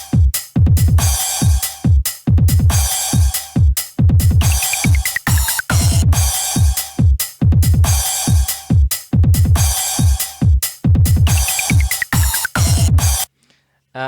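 Looping electronic beat with thumping bass drum, ticking hi-hat, washy crash and a synth line, loud and tightly repeating for about thirteen seconds before cutting off abruptly; no speech over it.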